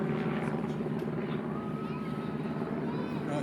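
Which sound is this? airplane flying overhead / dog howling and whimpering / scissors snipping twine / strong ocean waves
airplane flying overhead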